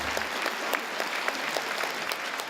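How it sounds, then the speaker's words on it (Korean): Audience in a packed large theater hall applauds ahead of a women's senior choir performance in Suwon, heard as fairly sparse, distinct individual claps ringing out at an uneven pace, moderately quiet and without talk. "관객들의 뜨거운 박수와 함께"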